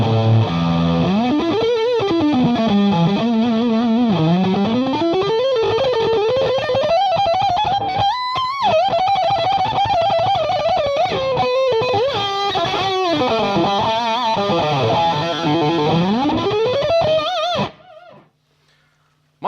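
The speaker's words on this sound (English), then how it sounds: "run the 2-stage and the germanium simultaneously" An electric guitar runs through a Strymon Sunset with its 2-stage and germanium overdrives stacked, producing a thick, saturated tone as sustained notes and slides ring on for about seventeen seconds before cutting to near silence.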